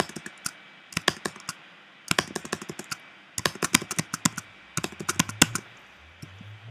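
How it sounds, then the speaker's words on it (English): Shift keys on a Mac keyboard tapped in quick bursts of sharp, close clicks, pausing briefly between clusters, with no talking. "And keep on tapping right shift."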